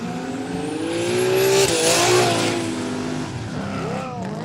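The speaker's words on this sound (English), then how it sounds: "That is a really good lick from the Datsun." Datsun launching hard in a street drag race against Aussie muscle cars at a quick street day: a revving engine climbing through gears with rising, wavering tones and a brief tire chirp, fairly close, no talk.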